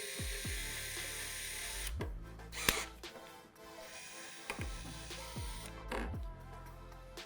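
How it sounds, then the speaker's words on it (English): A drill bit working through PVC pipe for a hydroponics kit, quiet whirring bursts punctuated by several sharp clicks and knocks as the bit stops and starts. "slowly drill through the PVC pipe"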